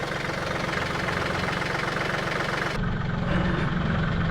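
Vehicle engine running as it slowly backs up beside an old well site, a steady rumbling idle close by that shifts to a slightly different tone partway through, with no talking.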